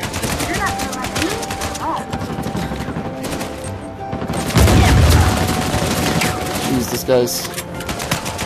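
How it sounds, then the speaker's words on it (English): Rapid bursts of gunfire fill an Uncharted 4 multiplayer match, with repeated shots and a heavier boom midway, mixed with game effects while a player talks over the action. "He's already shooting at people."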